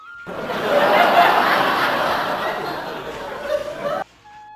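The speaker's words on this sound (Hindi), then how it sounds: "यहाँ बहुत सारी बकरियाँ बांधी हुई हैं और आवाज़ लगा रही, देखो आवाज़ सुनो" Goats tied up in a cow shed let out a long, loud, wavering bleat lasting about four seconds, close by, before it cuts off into quiet.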